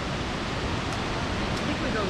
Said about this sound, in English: we see our first waterfall up there